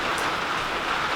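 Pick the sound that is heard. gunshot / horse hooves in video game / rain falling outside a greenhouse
rain falling outside a greenhouse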